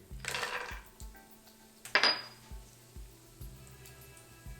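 Whole spices, cashews and onion dropped into a saute pan of hot oil on high heat, with a bright burst of sizzle, a second sharp spatter, and light metallic pan clinks between.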